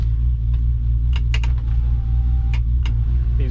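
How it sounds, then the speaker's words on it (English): Power windows on a Ferrari 365 whir briefly up and down inside the car, over a steady low idling rumble, with a few light clicks and taps nearby. "These windows go up and down."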